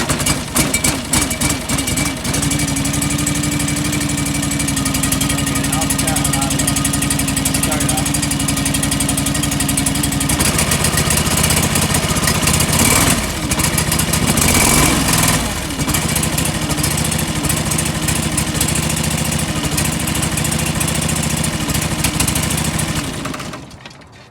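A John Deere 445 lawn tractor engine runs roughly, close and loud, with an uneven, unhappy idle that holds for the whole stretch before cutting out near the end; no one speaks.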